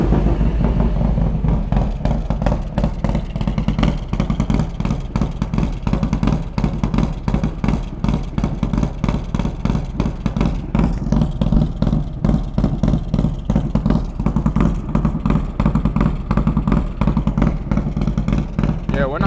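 A Harley-Davidson Road King heard from the rear of the bike starts and settles into a loud, steady, loping idle with rapid regular engine pulses that continue throughout.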